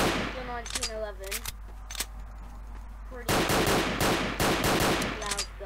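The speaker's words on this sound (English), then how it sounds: "Pretty loud gun." Loud M1911 pistol shots in the video game Garry's Mod, fired as sharp single reports and then a rapid, closely spaced burst, with a game tone and faint effects under them.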